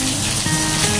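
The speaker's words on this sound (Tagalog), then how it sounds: "Biglang bumusok ulan dito." A sudden heavy downpour makes a loud, dense patter of rain hitting a surface close by, continuous and unbroken across the brief moment.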